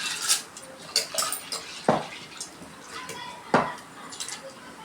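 Toor dal is washed in a metal vessel, giving a series of light clinks and scraping knocks with quiet watery movement between them at close range.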